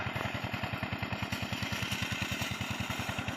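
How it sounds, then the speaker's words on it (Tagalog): A corn planting machine's small engine runs steadily nearby, giving a fast, even chugging beat with a mechanical clatter that stays level throughout, with no talking. "Makina na ang pagtatanim ng mais"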